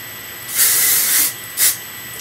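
Volumizing hairspray is misted onto bangs in a loud aerosol hiss: one longer spray followed by a short second puff, close up, with no voices.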